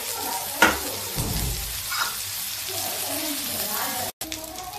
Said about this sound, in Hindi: ये प्याज फ्राई करते हैं, प्याज को हम ज़्यादा फ्राई नहीं करेंगे